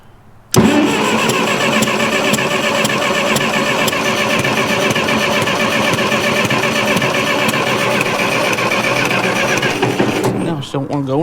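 A 1949 Ferguson TEA 20 tractor engine cranks and catches abruptly, then runs loud and close in a steady rough idle for about ten seconds before cutting out.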